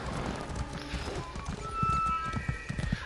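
Hooves of a horse in the Elder Scrolls Online video game clip-clop in a quick, steady rhythm, close and moderately loud, with a faint whinny mixed in.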